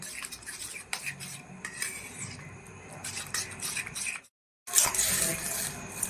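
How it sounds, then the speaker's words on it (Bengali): Fish being mixed by hand with onion juice and spices in a metal bowl, with steady squelching and scraping plus clinks of utensils, broken by a brief silent gap before louder mixing resumes; no one speaks. "এবার এটা ভালো করে মাখতে হবে।"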